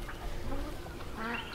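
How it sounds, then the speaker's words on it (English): Ducks quack nearby on fresh grass alongside chickens, a couple of nasal calls over steady outdoor background noise. "So I just moved these chickens and ducks down to some fresh grass here for them to"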